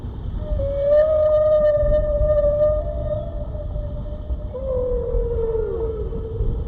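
A long, drawn-out whale call, a tonal moan that holds steady and then bends downward, loud and continuous over low underwater rumble.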